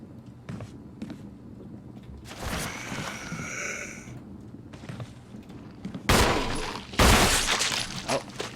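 Several gunshots fired in Resident Evil HD Remaster, a few sharp bursts clustered near the end after quieter in-game sounds and footsteps, with a ringing effect in between and no talk over them.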